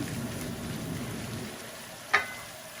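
Whole onions frying in a pan give a soft, steady sizzle, fairly quiet and close, with one sharp clink near the end.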